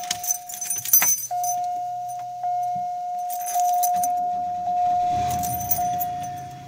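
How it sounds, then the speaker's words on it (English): A 1996 Buick Century with the 3100 V6 is started on a cold day: keys jangle in the ignition, a steady warning chime sounds, then the engine catches and settles into a close, even running rumble. "I'm going to try and start the Buick."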